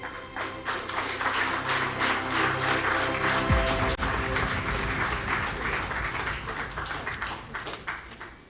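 Loud, sustained applause from an awards ceremony audience, dense clapping that holds steady for several seconds before gradually thinning.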